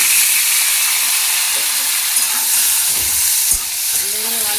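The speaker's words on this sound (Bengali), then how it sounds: "অল্প তেলে হালকা আছে ঢাকা চাপা দিয়ে একদমই পটলগুলোকে লাল লাল করে ভেজে নেব" Pointed gourds (potol) fry in a little oil in a covered pan, giving a steady broad sizzle with a few soft stirring knocks near the end.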